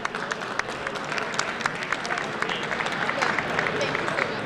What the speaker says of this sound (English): Big round of applause for Ed.